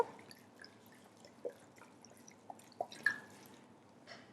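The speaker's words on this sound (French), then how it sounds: "il ne me reste plus qu'à arroser tout ça de bon vin rouge de Visan" Red wine from Visan poured over beef cheek marinating with garlic, heard as a few faint, scattered drips and soft wet splashes against a quiet background.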